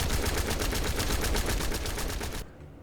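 Rapid automatic gunfire from a gun in The First Descendant, a dense sustained burst of evenly spaced shots that cuts off abruptly near the end.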